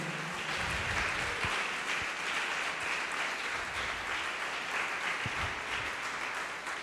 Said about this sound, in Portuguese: Pode aplaudir e glorificar o Senhor.